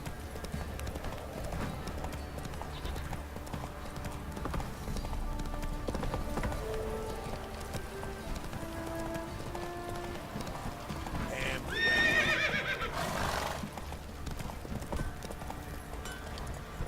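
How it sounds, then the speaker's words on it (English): Hoofbeats of a horse clip-clopping at a run in the video game The Witcher 3, steady and fairly close, with a short whinny near the end over a constant ambient game backdrop; no talking. "Whoa there, Roach."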